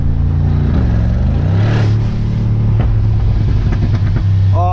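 A 2023 Brabus G900 Mercedes G-Class in Superblack is revved and downshifted, its engine a loud, close, deep rumble that rises and falls in pitch through gear changes.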